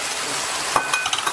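Eggs sizzle and crackle in a hot wok over tomatoes cooked down with salt, a dense steady frying hiss punctuated by a few brief stirring scrapes near the end.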